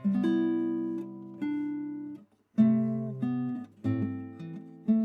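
A classical guitar plucks the fourth measure of Brahms' Lullaby as a short, gentle phrase of clear nylon-string notes and chords, with one brief pause midway.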